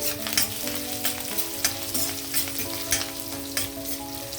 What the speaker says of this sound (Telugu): అల్లం ముక్కలు కొంచెం వేగాయి, వెల్లుల్లి కూడా వేసేస్తున్నాను.